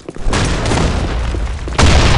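A grenade explosion in a video game hits as a loud, dense, rumbling blast, followed by a second heavy burst near the end.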